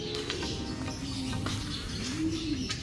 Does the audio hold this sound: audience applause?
no